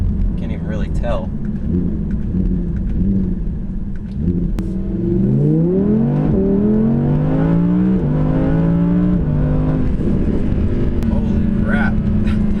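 An Audi R8 V10 Plus engine pulls hard at speed, its pitch climbing in several rising sweeps between gear changes, then settling into a steady, loud drone.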